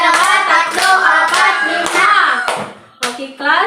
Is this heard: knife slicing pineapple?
no